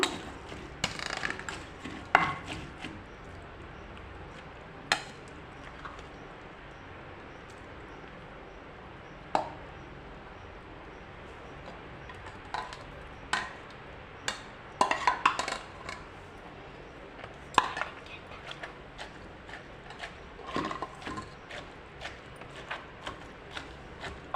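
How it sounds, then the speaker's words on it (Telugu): Ivy gourd pieces pounded in a stone mortar for a roti chutney, giving scattered sharp knocks and clacks at irregular intervals, some clustered, others isolated, over a quiet room background with no talking. "ఇప్పుడు దొండకాయ ముక్కలు వేసుకొని దంచుకుందాం"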